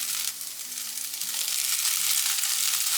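Cubes of paneer sizzle loudly in a hot pan of sautéed masala for pepper paneer, a dense, steady crackle with stirring throughout and a faint low hum underneath.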